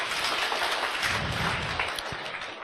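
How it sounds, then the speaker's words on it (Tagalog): Congregation clapping steadily through an Ilocano-language church preaching service, a dense, continuous wash of many hands close and loud throughout. "Palakpak ni Jesus."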